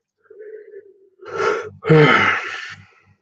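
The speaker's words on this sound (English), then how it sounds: "Oh my god, I feel like I'm gonna yawn." Someone yawns close up, a slow drawn-in breath followed by a louder, voiced, trailing exhale.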